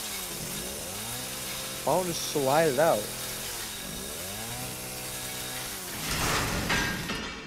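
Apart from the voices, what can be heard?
chainsaw cutting in Resident Evil Biohazard video game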